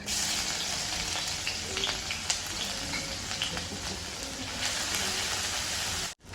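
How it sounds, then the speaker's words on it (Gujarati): Ginger garlic paste sizzles in half a ladle of hot oil for a vegetable spring roll filling, a continuous loud frying hiss with faint crackles that cuts off abruptly near the end. "અડધો ચમચો ઓઇલ નાખી દેવાનો અદરક લસણ પેસ્ટ"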